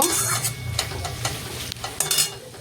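Paneer fries in a pan with Kashmiri chilli powder and black pepper powder as a utensil stirs and scrapes it, giving sharp clattering strokes over a steady sizzle.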